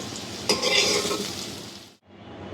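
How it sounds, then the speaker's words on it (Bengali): Taro stems fry in a pan with an even hiss of hot oil, joined by a sharp scrape of stirring, close and moderately loud, and the sizzle drops away abruptly near the end. "গাঠিটা মোটামুটি ভাজা হয়ে গেছে"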